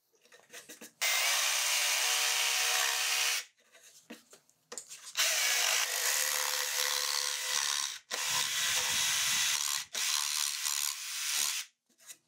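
A jigsaw cuts rounded ends on a walnut board, buzzing loudly and steadily in several long bursts separated by short pauses, with no talking.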